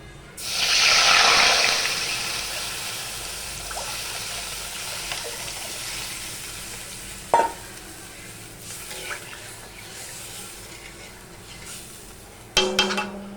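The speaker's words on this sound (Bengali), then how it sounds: "এবার আমি এর মধ্যে ডালটা দিয়ে দেবো" Washed lentils (dal) with salt and turmeric are tipped into a cooking pot, giving a brief rushing pour of water and grains, then quiet kitchen handling with a couple of clanks from the pot and utensils.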